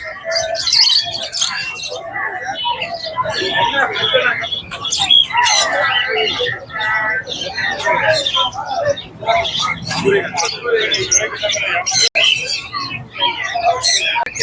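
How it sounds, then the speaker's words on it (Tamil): Lovebirds and other caged birds at the Pallavaram Friday market in Chennai, a dense, continuous chorus of shrill chirps and tweets close by, with people talking in the background. "இது ஃபுல்லாக லவ் பேர்ட்ஸு, ஃபுல்லாக பறவைகள்லாம் இருக்குது"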